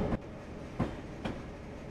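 A train runs in Train Simulator 2020 on the Soldier Summit route, a steady low rolling rumble broken by a few periodic clicks from the wheels passing rail joints.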